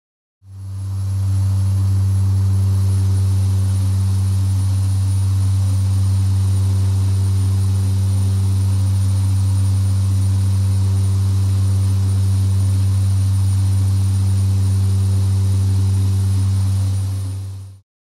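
Twin turboprop engines of a Carenado King Air B200 in X-Plane 11 drone steadily at climb power with props at 1900 RPM, a loud, constant low-pitched hum with a propeller whine overhead, fading in and out at the ends.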